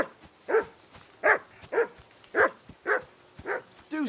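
A dog in a medieval riverside camp in Kingdom Come Deliverance 2 barks about seven times in a steady rhythm, sharp close yaps separated by short pauses, with no talking.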